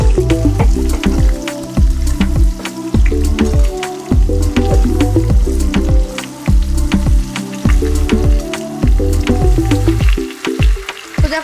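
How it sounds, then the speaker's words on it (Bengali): Chicken pieces fry in oil in a small kadai, a loud close crackling sizzle with dense rapid pops and spits that continue throughout without talk. "চিকেন গুলো আমি একটু বাদামি করে ভেজে নেব"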